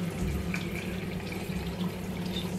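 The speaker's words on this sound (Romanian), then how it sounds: "Să-i spăl așa cu apă caldă." Warm tap water runs steadily at a kitchen sink as potatoes are washed, a continuous close splashing flow with no speech.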